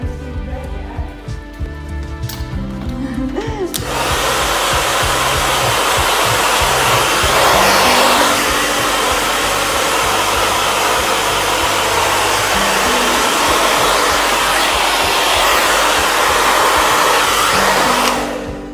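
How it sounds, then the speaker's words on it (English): A hair dryer switches on after a few seconds and roars loud and steady at close range for the rest of the time, blow-drying a freshly cut short bob, with some faint talk beneath it. "let me blow dry it"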